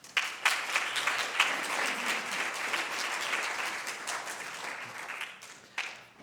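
A seated audience claps steadily for about six seconds, a dense roomful of applause welcoming a speaker to the podium, with a brief lull and one final swell near the end.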